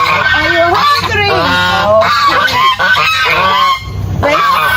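Geese being fed honk loudly and repeatedly in a dense, overlapping chorus, close by and continuous throughout.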